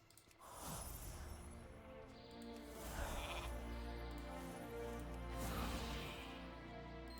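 Sheep bleating in World of Warcraft, a few drawn-out bleats rising over a loud, dense game soundscape, close and repeated at intervals of roughly two to three seconds.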